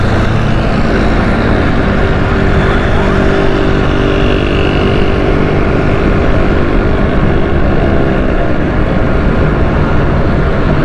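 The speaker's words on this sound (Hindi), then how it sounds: "थोड़ा सा स्पीड से भगाते हैं मोटरसाइकिल," A motorcycle speeds along Shahrah-e-Faisal, a loud, unbroken roar of engine and rushing wind that stays level from start to finish.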